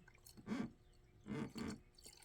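Mercedes coolant, mixed half and half with distilled water, poured into an engine: quiet liquid gurgles and splashes in two or three short bursts, faint and close.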